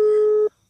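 A phone call left unanswered gives a single steady tone from the handset that holds for about half a second and then cuts off, with no voices over it.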